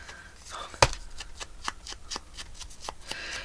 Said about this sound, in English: these get a lot flatter once you peel all the cardboard off